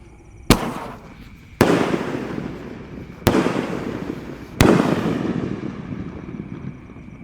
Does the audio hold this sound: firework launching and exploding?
yes